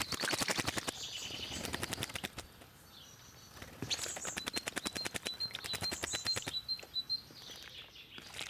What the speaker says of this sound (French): l'intimité du bain de la grive musicienne, de l'étourneau sansonnet ou du merle noir